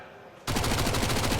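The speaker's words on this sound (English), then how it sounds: "MAC-10 just spraying on in through the smoke." A MAC-10 submachine gun in the Counter-Strike video game sprays a sudden, sustained burst of rapid, loud automatic fire after a brief quiet moment.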